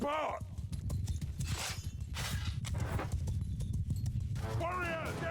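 Horses gallop in the medieval battle game Mount & Blade II: Bannerlord, a rapid continuous clatter of hooves under steady talk, with a horse's whinny near the end.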